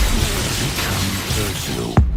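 A Confringo blasting curse from Hogwarts Legacy goes off as one sharp, loud burst near the end, following a low rumbling game soundscape.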